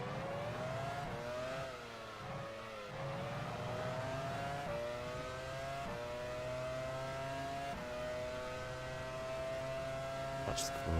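A Ferrari Formula One car from the 2000 Australian Grand Prix in a racing video game screams along with a high, sustained engine whine that climbs through gear shifts, close and loud, with faint talk underneath.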